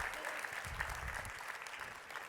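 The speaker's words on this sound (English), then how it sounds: "Give yourself a round of applause." A conference audience gives a round of applause on the last morning of the event, a steady, moderately distant wash of many hands clapping throughout.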